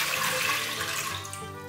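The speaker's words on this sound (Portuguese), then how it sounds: "Gente, estou com a minha panela de pressão aqui e eu vou colocar água." Water streams steadily into a pressure cooker, a continuous hissing, splashing pour heard up close with no talking.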